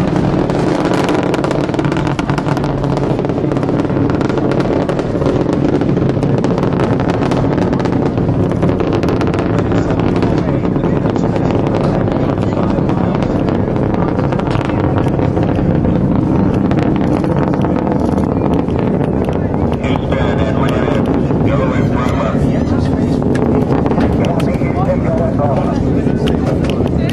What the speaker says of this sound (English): The three liquid-fueled engines are back at full throttle.